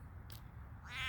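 A hungry cat gives a single short meow close by near the end, following a quiet stretch with a faint brief sound.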